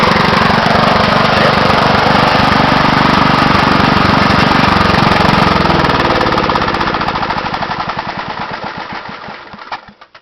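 A BCS walk-behind tiller engine runs loud and close with a steady, rough mechanical roar, then sputters and winds down over the last few seconds as it is shorted out and stops.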